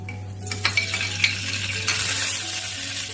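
Eggplant pieces fry in hot oil in a wok with a steady sizzle that grows louder midway, punctuated early by a few sharp metallic clinks of utensils against the pan.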